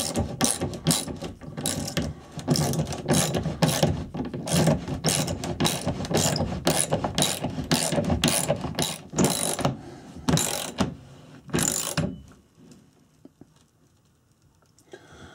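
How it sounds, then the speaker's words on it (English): A ratchet wrench clicks steadily, tightening bolts on a Sanus VSF409 full-motion TV wall mount, with fast rhythmic pawl ticks up close that come in short bursts and then stop, leaving quiet. "So we'll just run these in and tighten them down."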